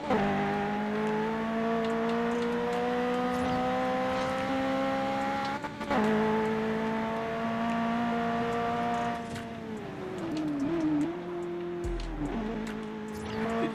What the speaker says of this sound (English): this is the sounds of cars we were hearing